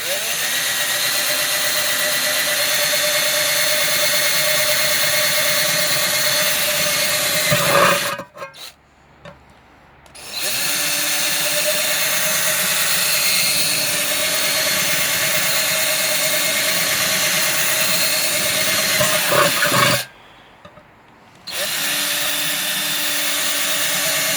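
A power drill bores drainage holes through a metal olive tin, running in two long steady whining bursts with short pauses between them, loud and close with no talk.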